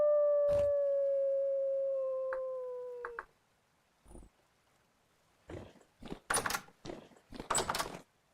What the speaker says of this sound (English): Just a nice casual wolf giving me the wolf reverse rooster.